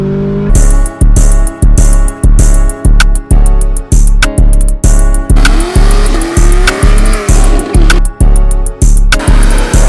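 A Chevrolet Camaro ZL1 pulling hard with a loud, close engine roar broken by a rapid regular series of sharp pulses, pitch climbing steadily through the run.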